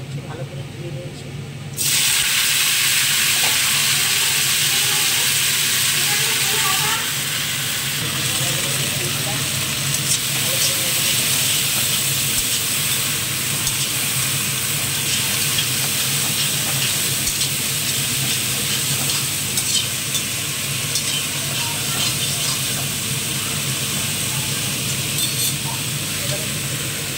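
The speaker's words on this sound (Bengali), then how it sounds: "ভেন্ডি ভাজা করবো" Okra (bhindi) fries in a hot wok with panch phoron, a loud continuous hiss and sizzle that starts abruptly and holds steady at close range, with faint stirring sounds underneath.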